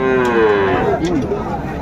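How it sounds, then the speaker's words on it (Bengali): A Sahiwal bull at a cattle market in Dinajpur lets out a single loud, close moo with a falling pitch, lasting most of the short moment with some background noise. "বেশ সুন্দর গরুগুলো।"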